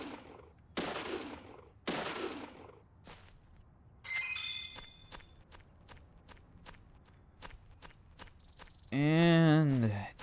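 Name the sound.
gunshots shooting down a nest in the video game Deadly Premonition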